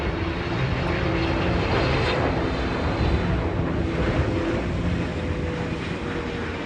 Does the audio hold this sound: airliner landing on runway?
yes